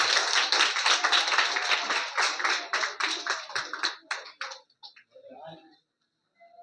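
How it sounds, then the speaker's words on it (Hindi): A group of schoolchildren claps loudly to honour newly chosen class captains at an eco club gathering in a village school. The applause runs fast and dense, then thins into scattered claps and fades to silence, with a brief voice near the end. "जोरदार ताली बजाएंगे।"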